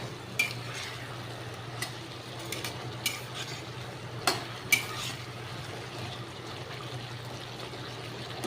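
Eggplant pieces frying in a pan for a Bengali hilsa fish curry with potatoes, a soft continuous sizzle with occasional clinks and scrapes of a spatula stirring.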